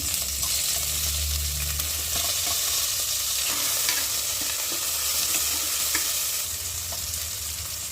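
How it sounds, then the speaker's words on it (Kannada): Onion fries in a hot tempering for a country chicken curry, giving a continuous close sizzle and crackle with steady stirring and scraping throughout, and no voices. "ಫಸ್ಟ್ ಈರುಳ್ಳಿ ಹಾಕ್ತಾ ಇದ್ದೀನಿ"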